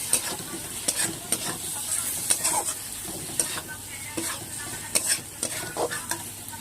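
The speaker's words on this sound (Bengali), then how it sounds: "দিয়ে আমি মশলাটাকে সামান্য কষিয়ে নেব" Chicken pieces sauté in a hot pan with chili powder and spices, giving a steady sizzle broken by repeated scraping stirs of a spatula, close and fairly loud with no talking.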